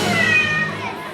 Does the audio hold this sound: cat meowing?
yes